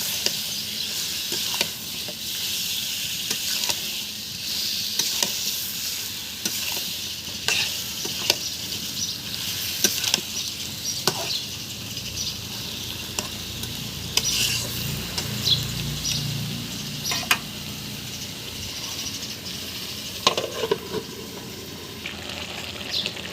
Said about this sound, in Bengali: এখন কুমড়া সিদ্ধ করা কুমড়াগুলো ঢেলে দিব